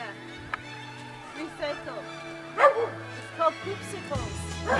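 Several dogs bark and yip in short scattered bursts, fairly close, under steady conversation and music.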